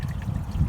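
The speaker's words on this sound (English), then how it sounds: "And now the water's starting to pour out of here." Coolant water trickles and pours steadily out of a disconnected hose on a 2-litre Ford Mondeo during coolant bleeding and water pump replacement, a close, continuous low gurgling dribble heard alone without speech.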